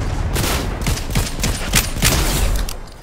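Rapid bursts of heavy gunfire in the Fortnite video game, several sharp shots in quick succession over a dense, loud background of battle noise.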